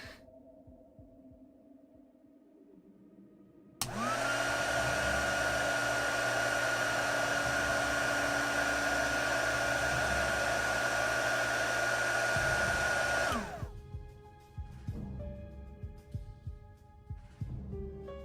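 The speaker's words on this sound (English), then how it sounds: "It's the heat gun that I'm turning on repeatedly to heat up the knife." A heat gun heating a knife switches on with a steady, loud blowing roar and hum that runs for several seconds, then cuts off, leaving quieter background noise.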